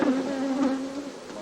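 Honeybees drone around a frame lifted from a hive used for royal jelly production, a close, steady buzz with a low hum that fades slightly over a brief moment.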